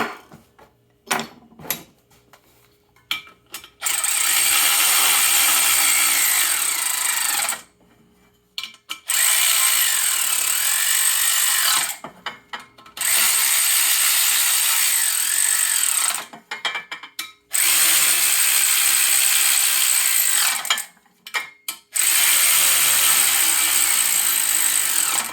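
A ratchet tightens the clutch cover bolts on a Speed UTV, starting with some clicking handling and then running in four long, loud, steady whirring stretches separated by brief pauses.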